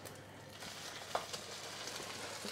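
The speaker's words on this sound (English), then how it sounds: "once our butter is foaming and the pan starts sizzling, now we will add our bread" Bread frying in foaming butter in a pan for French toast, a soft steady sizzle and crackle with one brief clink, quiet and without talk.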